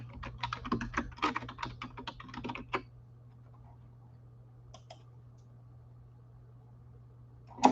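Rapid computer keyboard typing, close and fairly loud, in a dense burst for a few seconds, then a pause with a couple of isolated key clicks and one final sharper tap.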